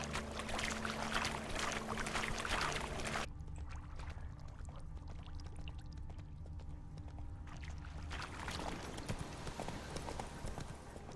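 Roach the horse's hooves clip-clop steadily across ground in The Witcher 3, a continuous close rhythmic trotting over a game ambience that drops quieter midway before swelling back.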